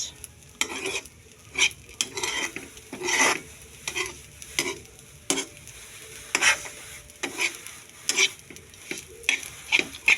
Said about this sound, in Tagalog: The proper way of cooking fried rice.